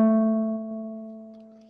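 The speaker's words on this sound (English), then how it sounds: "the volume for the guitar starts off as loud and then becomes gradually more quiet" A single plucked guitar note rings out clearly and fades gradually as it sustains, heard alone.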